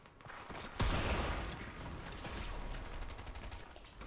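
The mammoth pistol fires in the Fortnite video game: one loud, booming shot, followed by a noisy, crackling tail of game sound that fades over a few seconds.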